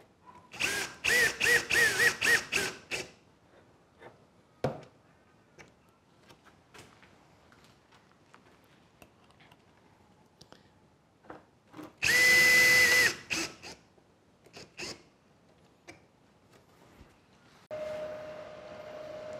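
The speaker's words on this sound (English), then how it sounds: "All we have to do from here is to put some screws through here so we can hold the whole thing in place" A power drill drives screws through a template for a carbon fibre wing pattern: a rapid burst of short whirring pulses, later a longer sustained high whine, then a lower steady spin, with handling knocks in between, close by.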